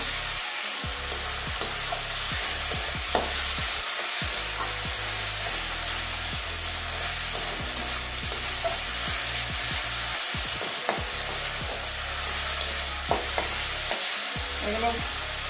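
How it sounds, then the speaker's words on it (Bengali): Boiled freshwater snails and drumsticks fry with spices in a pan. A continuous close sizzle runs throughout, broken by frequent spatula scrapes and stirring knocks against the pan, with no one talking. "আর এগুলো ভালো করে কষিয়ে নেব মশলার সঙ্গে।"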